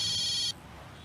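A telephone rings once, loud and close, its electronic bell tone lasting about half a second before cutting off abruptly into quiet room sound.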